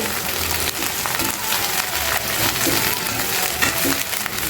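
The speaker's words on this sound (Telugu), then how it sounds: "మొత్తం ఒకేసారి వేయించుకోలేము కదా కొంచెం కొంచెం వేయించుకుందాం స్టవ్ మీడియం ఫ్లేమ్లో పెట్టుకోండి" Groundnut oil frying over a medium flame on a stove, in a batch for coriander pickle, gives a steady, close crackling sizzle with soft stirring scrapes throughout.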